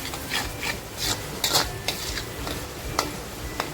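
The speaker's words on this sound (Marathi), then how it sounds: "आपल्याला हा मसाला छान असा फ्राय करून घ्यायचा" Mutton curry masala is fried in a pan and stirred, a steady sizzling hiss broken by repeated scraping strokes of a spoon in an uneven rhythm, close and moderately loud.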